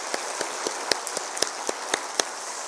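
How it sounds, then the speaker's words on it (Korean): Church congregation at a Wednesday service clapping in thanks after the sermon: about a dozen sparse, separate claps scattered over a few seconds, light and fairly close, with no voices. "우리 귀한 말씀 전해주신 우리 전도사님께 감사의 박수하겠습니다"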